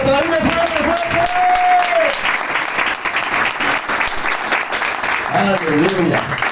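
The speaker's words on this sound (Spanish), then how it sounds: "¡Aplausos fuerte, fuerte!" A church congregation at an anniversary service claps loudly and continuously, a dense wash of applause with voices calling out over it, sustained throughout.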